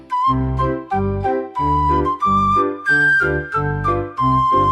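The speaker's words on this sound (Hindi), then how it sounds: "सीटी देखो कैसे बाजे कुकू कुकू" Cartoon train whistle in a Hindi nursery rhyme, a series of bright tonal toots in rhythm over a bouncy, loud musical backing with no talking.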